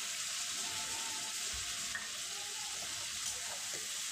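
Ridge gourd and potato curry with poppy seed paste simmers in a pan, giving a steady close hiss and soft bubbling with faint stirring scrapes now and then, and no voices.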